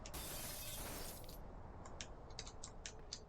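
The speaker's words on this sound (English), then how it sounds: "I heard some glass breaking" Glass shatters in the horror video game Amarok's Howl, a loud crash spilling into scattered tinkling fragments that settle into several faint, sharp clinks.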